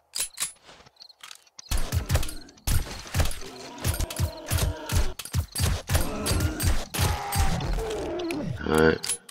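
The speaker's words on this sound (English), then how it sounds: "Let's reload." Weapon reloading in the video game 7 Days to Die: a rapid series of metallic clicks, ratchets and clacks, close and sharp, with a voice speaking over parts of it.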